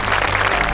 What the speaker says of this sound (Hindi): जोरदार तालियां बजाते हैं।